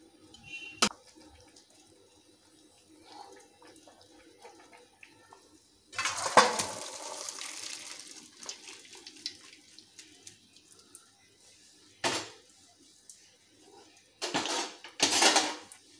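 Par-cooked rice, about 80% done, drained from a pot for veg biryani: clatters of metal pot and utensils, then bursts of pouring, splashing water around six seconds and again near twelve and fifteen seconds, no talk.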